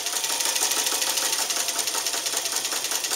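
Wizard sewing machine stitching fabric at an even speed, a steady close whirring with a fast regular mechanical chatter throughout.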